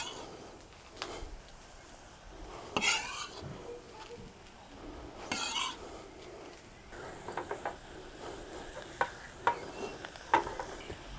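Onions and parsley sauté in a pan, a faint low sizzle broken by scattered scraping stirs and light clicks of a utensil against the pan, with no talking.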